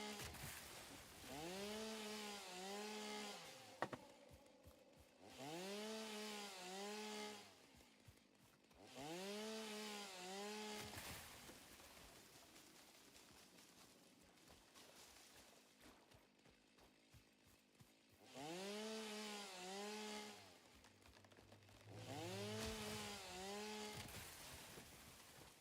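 Chainsaw cutting trees in the video game Satisfactory, revving in repeated bursts of a few seconds each, separated by quieter gaps, faint overall with no voices.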